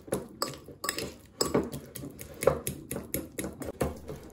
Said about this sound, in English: I basically remove flesh from avocado, place it in a bowl and mash it with a fork.